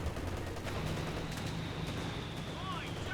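In a 4v4 Company of Heroes 2 battle, continuous gunfire rattles under a dense wash of combat noise, with scattered shots and a faint whistling projectile near the end.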